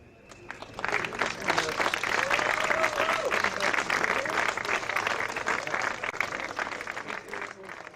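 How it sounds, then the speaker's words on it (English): Crowd applause for the third-place finishers at a Sidecar World Championship sprint race at TT Assen, rising quickly and holding as steady, dense clapping, with some voices mixed in. "Big applause, guys."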